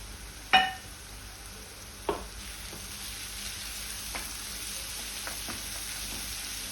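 Tomato puree goes into a ground onion paste frying in a pan for kofta curry; a soft, even sizzle runs throughout, marked by a couple of clear utensil knocks early and lighter taps later.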